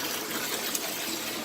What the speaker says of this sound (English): bring a big container and fill with water